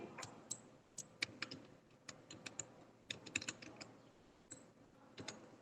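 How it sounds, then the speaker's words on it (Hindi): Rapid typing on a computer keyboard while entering data in an MS Excel spreadsheet, with irregular clusters of close, crisp key clicks and a few sharper presses such as the enter key, with no talking. "और एंटर कर देंगे"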